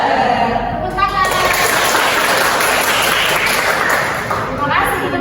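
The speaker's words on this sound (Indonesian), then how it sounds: "Tepuk tangan." Classroom applause from students in an Indonesian social studies lesson, steady dense clapping for about five seconds with children's voices chattering over it.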